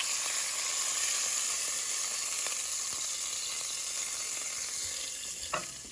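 Sausage sizzles and crackles steadily in hot oil in a frying pan, a dense continuous hiss with a few small pops and a faint clink near the end, no voices.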